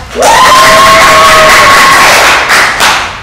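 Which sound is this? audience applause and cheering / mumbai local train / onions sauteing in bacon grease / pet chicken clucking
audience applause and cheering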